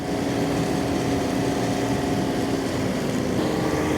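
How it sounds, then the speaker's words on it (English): A 10-foot flexwing mower pulled by a 46 hp tractor cutting heavy fescue, a steady loud engine and blade drone, close and unbroken throughout with no talking. "It's amazing how much ground we can cover with this 10-foot mower."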